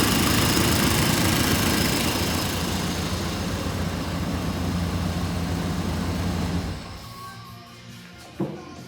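A Chevrolet square body truck's basic fuel-injected engine runs in a steady loud drone, then cuts off, leaving a quieter tail with a brief clunk near the end.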